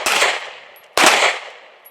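Two loud, close gunshots crack about a second apart during a shooting drill at a range, each one ringing out and then decaying.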